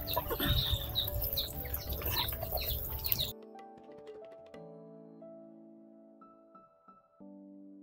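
Chickens cluck and call busily for about three seconds, close and fairly loud, then the sound drops to near silence with faint scattered noises.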